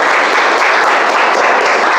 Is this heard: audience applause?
yes